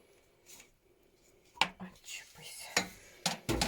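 Fish chunks of silver carp, whitened after soaking in vinegar, tipped into a sieve or colander with a few clattering, wet clinks and taps in a home kitchen, close and fairly quiet amid soft handling noises.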